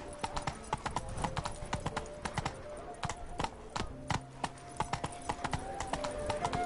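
The horse Roach gallops in a video game, its hooves clip-clopping in a quick, steady rhythm of close, distinct beats throughout, with no talk over them.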